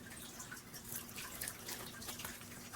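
Gentle trickle of a small water fountain with light drips and splashes, soft and steady at a low level.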